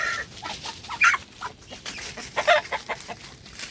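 A White Kelso hen clucks after laying eggs, giving a few loud, close clucks in short bursts against a steady outdoor background.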